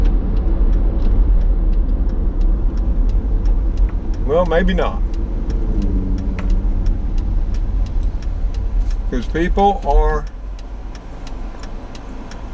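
Steady low rumble of cars in slow traffic heard from inside a moving car, continuous engine and road noise with people talking briefly over it.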